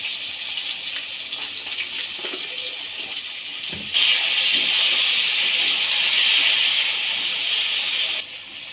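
Steady sizzling hiss of spices frying in a hot pan, growing louder partway through, then dropping back near the end.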